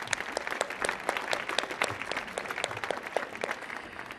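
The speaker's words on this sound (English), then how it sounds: "Can we give them another round of applause?" Audience applause at a flute concert on a live performance stage, a steady wash of many hands clapping together for the whole stretch, moderately loud and evenly sustained with no voices over it.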